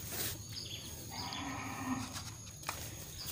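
Faint cattle lowing drifts in from a distance in a cow barn during feeding with hay, under a steady low background hum, with no talk.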